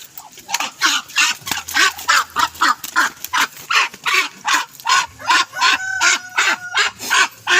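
Ducks quack loudly and rapidly in a steady, repeated series of harsh calls, close by, with the calls running back to back.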